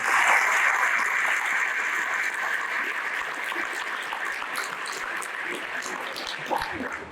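An audience at an indoor meeting of apartment building workers in Beylikdüzü applauds, a dense, loud wash of many hands clapping that slowly fades over several seconds.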